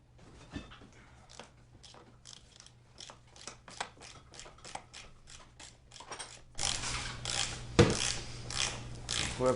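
A hand ratchet clicks in quick, even bursts of pawl ticks while loosening bolts on a Jeep transfer case, close and fairly quiet at first, then louder with scraping handling noise toward the end.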